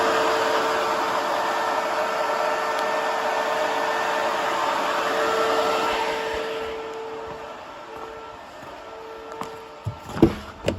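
A 2017 2500HD plow truck with a 6.0L engine has an electric cooling fan on its transmission cooler that runs with a steady, close whooshing hum. The hum fades near the end, where a few sharp clicks and knocks follow.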